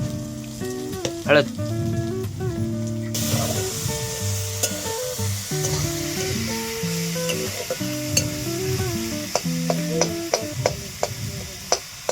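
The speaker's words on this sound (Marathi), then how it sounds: "एक चमचा मीठ टाकायचं आणि हलवून घ्यायचं" Onions with salt fry loudly in a pan for bombil bhaji, a bright continuous sizzle with repeated spatula scrapes and stirs, close up, while background music plays and nobody speaks.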